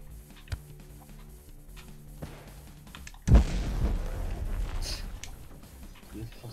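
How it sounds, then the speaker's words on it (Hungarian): A single sudden bomb blast in the game Gun Monkeys, a sharp loud boom with a rumbling decay over a couple of seconds, set against quiet background game music and small ticks. "azt a robbantom meg"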